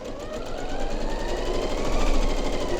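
A sewing machine runs steadily, stitching the meeting seam between two quilt fabric pieces for flying geese blocks; the motor's continuous whir holds close and even throughout with no talking.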